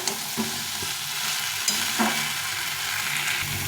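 Spices and vegetables sautéed and stirred in a pan for a light fish curry, giving a dense, continuous sizzle with occasional scraping strokes of a spoon, close up and without talk.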